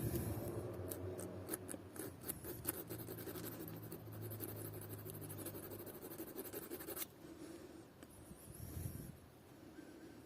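A needle file rasps against a plain steel coin in close, rhythmic scraping strokes that repeat steadily before easing off.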